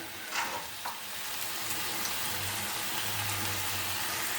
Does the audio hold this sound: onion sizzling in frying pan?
yes